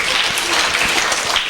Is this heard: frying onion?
no